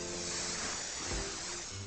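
Anti-bug spray fired in a video game: a steady, unbroken hiss that lasts the whole moment at an even, moderate level, with no talk.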